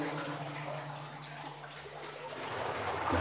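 Steady running water flows and trickles nearby inside an abandoned lead mine tunnel, a continuous watery wash with no voices.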